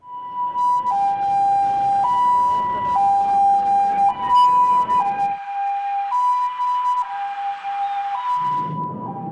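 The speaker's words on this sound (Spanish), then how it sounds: "El sonido de las sirenas anuncian el toque de queda." Emergency sirens sound across a city to announce a curfew, a loud two-tone wail alternating steadily between pitches for the whole stretch, with low traffic rumble beneath early on and no voices.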